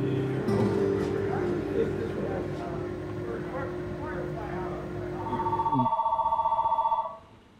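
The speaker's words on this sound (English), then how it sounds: "That's their phone." A telephone rings in a woodworking shop: a steady low hum fills most of the clip, then an electronic ring pulses loudly for a couple of seconds near the end before cutting off.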